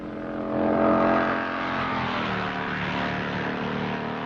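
Racing motorcycles on a 1960s road course slow from about 140 to under 40 mph for a right-angled corner, a steady broad engine roar swelling early then holding, with no talk.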